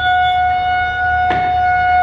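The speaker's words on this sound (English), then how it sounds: "That's a tornado siren." A tornado siren wails steadily throughout, loud and constant, with a brief noisy bump partway through.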